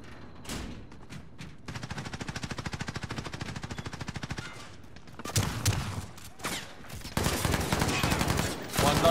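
Automatic gunfire in the Call of Duty Warzone video game, a sustained rapid burst followed by heavier, denser volleys and thuds, loud and close, with faint voices of players mixed in.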